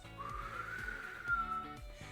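A person whistling a short tune, with wavering sustained notes that rise and fall over a soft repeating low beat in the background.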